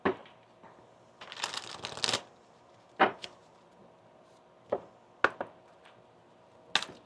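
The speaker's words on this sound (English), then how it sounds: "One more shuffle." A deck of oracle cards being shuffled, with one longer riffling burst followed by several sharp, isolated card snaps and taps, close and fairly quiet.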